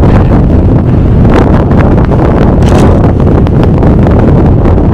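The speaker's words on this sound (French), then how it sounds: "Alors, il y a des rafales." Gusty mountain wind in the Pyrenees near Pas de la Case, roaring steadily and loudly into the microphone for the whole stretch, with no voices.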